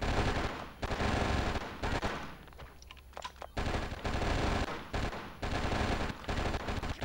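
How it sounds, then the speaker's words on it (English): Sustained bursts of automatic gunfire from the video game Oni as clips are unloaded on an enemy, loud and dense, with a short lull near the middle before the firing resumes in rapid repeated volleys. "I say that as I unload a couple of clips on him"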